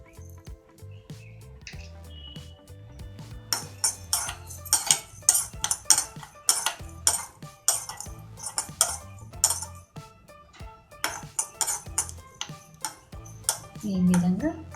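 Cumin seeds sizzle and rattle in a pan with a steel spoon scraping and clinking as they are stirred, a busy run of metallic taps and scrapes close by, part of preparing Varalakshmi Vratam prasadam.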